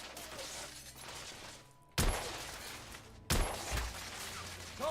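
Two sharp, loud gunshots from a horror video game, each a sudden blast with a lingering tail, fired a little over a second apart against a low rumbling ambient background.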